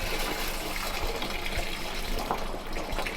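Drinking water flows from a natural artesian well at a tribal national park, a constant close rushing and splashing stream with no pauses and no talking.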